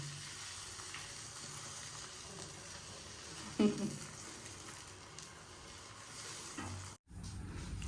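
Eggs frying in a pan, a low steady sizzle with a single louder clatter partway through as they are flipped, then a brief cut before the frying resumes.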